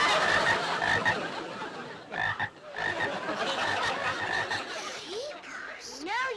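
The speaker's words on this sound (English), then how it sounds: "Get those frogs out of here." Several frogs croak in a dense, continuous chorus of rasping calls, loud and close, with a few brief rising squeaks near the end.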